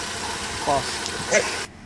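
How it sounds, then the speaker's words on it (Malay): Proton Saga BLM 1.6 car engine idling roughly, a continuous uneven low rumble close by, with a voice speaking briefly over it before the sound cuts off. "Dengar bunyi enjin dia, betapa kasarnya."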